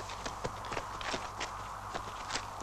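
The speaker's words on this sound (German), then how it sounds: "Den Hufschlag kenne ich." A horse's regular clip-clop hoofbeats, several per second in a steady trotting rhythm, fairly close, over a low continuous background hum.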